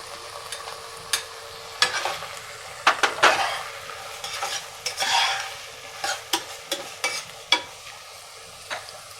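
Onions fry in a pan for a chicken dish, with a spoon scraping and knocking against the metal in a quick, uneven rhythm. The stirring sounds ride over a soft, continuous sizzle and are close and fairly loud.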